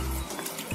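Tap water splashing and swirling in a bowl as a few drops of cleaning liquid are mixed in for washing fruit and vegetables, a steady close wet rush with no talking.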